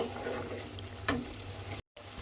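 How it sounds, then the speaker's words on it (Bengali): Bottle gourd cooks in a pan with sugar and ginger juice, giving a low, steady close sizzle with a brief stirring clatter, cut by a short moment of silence near the end. "চিনি আর আদার রসটা দিয়ে আমি কিন্তু এইভাবে এক মিনিট মতো একটু রান্না হতে দিয়েছিলাম"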